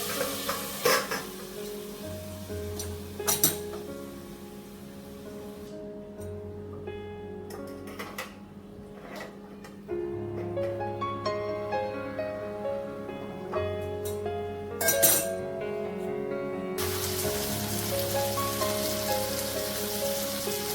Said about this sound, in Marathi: म्हणून अजून मी एक 5 मिनिटं ही तोंडली शिजवून घेणार आहे.